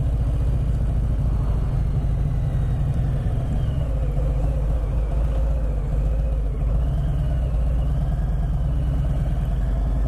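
Steady, loud low rumble of a 2020 Harley Davidson Sport Glide's V-twin engine while riding, with continuous deep throbbing and wind noise and no speech.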